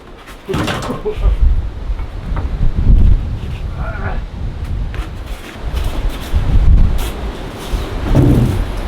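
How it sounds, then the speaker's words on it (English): Strong wind gusts buffet the microphone in loud, uneven bursts, with brief rustling and knocks between the blasts. "it's super windy"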